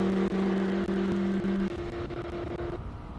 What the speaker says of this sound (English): It's a beautifully prepared Porsche going up the hill